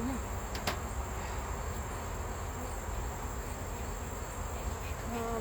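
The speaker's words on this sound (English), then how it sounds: "Listen to those bees, guys." A dense, continuous buzz of many agitated honey bees during a honey harvest surrounds the listener, loud and restless, with occasional individual bees zipping close by.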